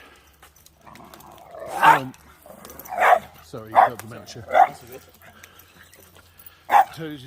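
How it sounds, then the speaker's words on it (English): A dog barks at a pine-lined coastal chine, with about five sharp, separate barks spread across the clip and a person talking in between. "Toby's decided he wants to play with a dog that would probably chew him to pieces."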